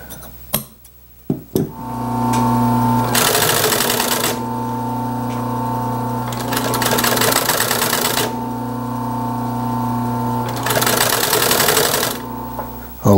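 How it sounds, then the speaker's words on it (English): A sewing machine stitching an upholstery seam for a 1930s drop-in seat runs loud and close in two long steady bursts of rapid mechanical chatter, with a few clicks and a brief pause between them. "When I sew these together, it should match up evenly spaced."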